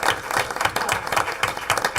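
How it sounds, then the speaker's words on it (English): An audience at a school board meeting applauds a newly introduced principal with a steady, moderately loud patter of many hands, continuing without a break. "Do we give him a round of applause?"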